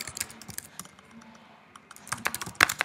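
Rapid clicking keystrokes on a computer keyboard, close and crisp, in uneven bursts with a short lull in the middle.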